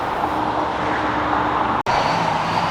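Loud road traffic on a street in the village of Baker, Louisiana, a steady broadband roar of cars and heavier vehicles passing close by, continuous apart from one brief dropout.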